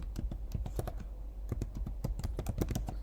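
Rapid keystrokes on a computer keyboard while programming code for loops, crisp close clicks in an uneven, quick rhythm with brief pauses, and no voices.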